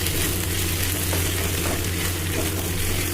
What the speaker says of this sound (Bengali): পেঁয়াজ কলি হাফ ভেজে রেখেছি আর বাকি হাফটা এখানে ভাজা হবে।